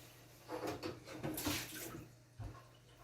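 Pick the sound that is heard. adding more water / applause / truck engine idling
adding more water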